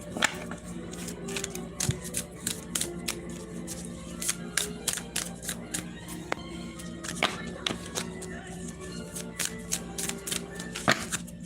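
Tarot cards are shuffled by hand, a dense, steady patter of close riffling snaps and slaps that continues throughout at moderate volume with no talking.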